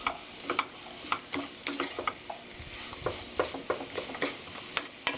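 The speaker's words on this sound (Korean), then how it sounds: "이렇게 배가 살짝만 익을 정도로 볶아주세요" Pear fried rice is stir-fried in a pan over medium heat, a soft sizzle under frequent rhythmic scrapes and taps of a spatula tossing the rice.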